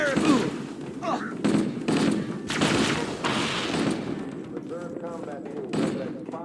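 Gunfire from Halo: Combat Evolved co-op play, a string of sharp shots and thuds spread through the clip under frequent excited chatter from players.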